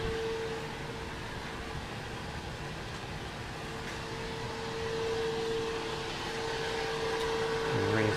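Vacuum pump of a rotary evaporator running in a lab: a steady mechanical hum with a constant whining tone, continuous and moderately quiet, building slightly toward the end.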